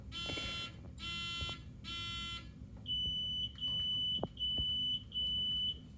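Several quiz bowl electronic buzzers sound in turn during a buzzer check, harsh rasping tones followed by shorter clean high beeps, each about half a second, close and loud.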